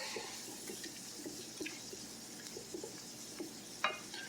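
Bell pepper being tossed in a pan for goulash, faint soft sizzling with light stirring scrapes and small clinks, quiet and close with no talking.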